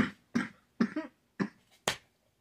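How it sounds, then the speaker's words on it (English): A series of five short, sharp coughs in uneven rhythm, close and fairly quiet, with brief silences between them. "God, I hate this cough."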